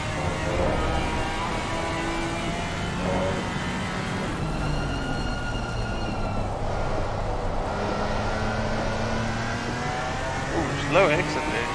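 A Porsche GT4 race car engine drones steadily in a sim racing game at the Nürburgring, its pitch rising and falling through gear changes, with a voice talking over it throughout.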